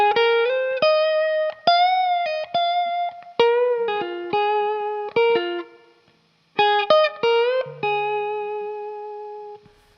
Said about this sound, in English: if I just back up to kind of the turnaround here, sounds like this